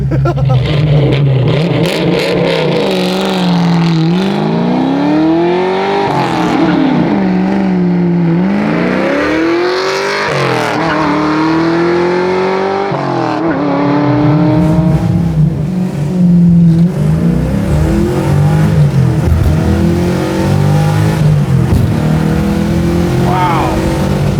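A 550 hp 1963 Ford Falcon race car revs hard and loud, its engine note climbing and falling in repeated sweeps while a low booming thumps from the rear end. Voices talk intermittently over the engine.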